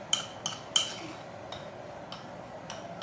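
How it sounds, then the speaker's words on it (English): Apple cinnamon bread pudding mixture being stirred in a bowl, with a handful of light clinks and scrapes of a utensil against the bowl, the first few louder and then softer ones spaced apart, with no voices. "Now just mix it just to where it feels like everything's kind of in there"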